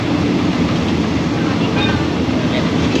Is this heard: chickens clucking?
no